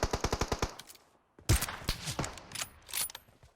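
Rapid automatic gunfire in PUBG Mobile: a quick string of sharp, close shots, a short pause, then a louder burst followed by scattered shots and clatter.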